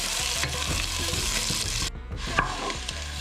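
Minced garlic and white onion sauté in a hot pan for a kinamatisang baka, giving a loud, steady sizzle with occasional stirring scrapes and a brief dip when the pan is moved.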